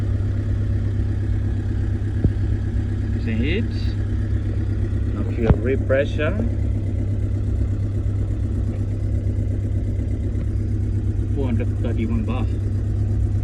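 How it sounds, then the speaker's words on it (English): A JS220 engine that had trouble starting holds a steady, droning mid-pitched idle throughout, with someone talking over it close by. "So we crank the engine right now. See, fuel pressure is rising up. See, now engine can start."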